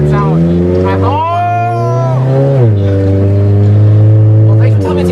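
A riced-out Honda Element with straight pipes revs hard, its loud buzzy exhaust drone rising in pitch, holding, then dropping and settling into a steady idle, with voices reacting nearby.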